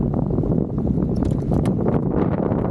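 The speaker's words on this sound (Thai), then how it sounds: "ลมแรงมากเพื่อน" Strong outdoor wind hits the microphone during a pre-wedding photo shoot, making a loud, steady, rumbling roar with gusty swells throughout and no speech.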